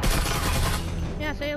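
Loud shotgun blasts in the VR shooter Breachers, with heavy booming reports filling the first second, followed by a voice talking as the shots fade.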